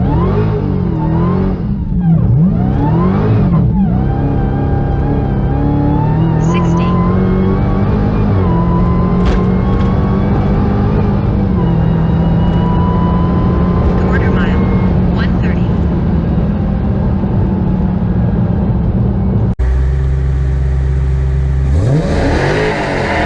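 A 2021 Dodge Charger Hellcat Widebody Redeye on Toyo R888R tires launches from a dig with traction control off. Its engine roars loud and close, pitch climbing and surging for about twenty seconds before cutting to a different, steadier tone at the end.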